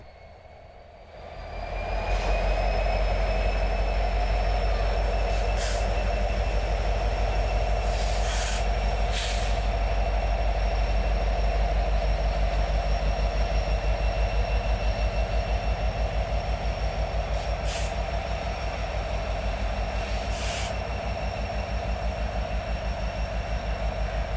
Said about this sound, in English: Train will be coming from down that way